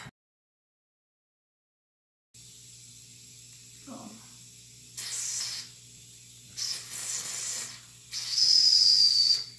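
A small methylated-spirit-fired model traction engine hisses in several bursts of steam, then sounds a thin, steady high whistle, heard close over a low background hum after an opening silence.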